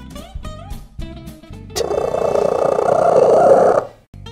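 A domestic cat purring loudly and steadily for about two seconds, close to the microphone and heard alone, after a few brief faint sounds at the start.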